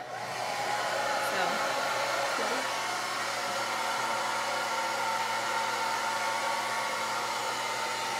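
A hair dryer blows cool air in a steady, continuous whoosh with a constant motor hum, close and fairly loud, running alone throughout.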